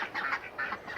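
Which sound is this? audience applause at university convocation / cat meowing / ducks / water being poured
ducks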